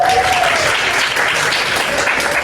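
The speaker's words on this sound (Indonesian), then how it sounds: "Boleh tepuk tangan dulu." Chemistry class clapping together for a student's correct answer, a dense, loud burst of many hands close by, continuous and even throughout the short stretch with no talk.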